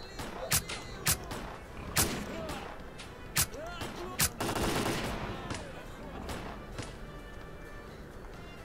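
Gunfire in the video game S.T.A.L.K.E.R.: Clear Sky: sharp single shots at irregular intervals plus a short rattling burst, heard under people talking.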